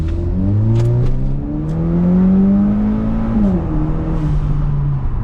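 A modded turbocharged Acura RDX fitted with a high-flow catalytic converter accelerates hard from close by, its loud engine note rising through a gear, shifting, then climbing again.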